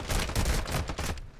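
Rapid bursts of video game gunfire aimed at an opponent's toes, likely from an ISO45 SMG, loud and close with several quick volleys and short gaps between them before cutting off.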